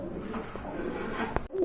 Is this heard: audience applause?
no